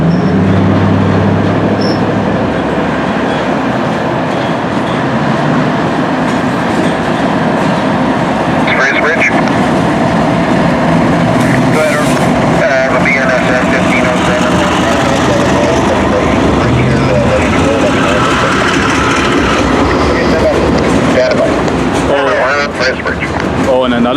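A BNSF freight train rolls past close by near a bridge in New Westminster, a loud continuous rumble of wheels and cars with occasional squeal, while people talk over it.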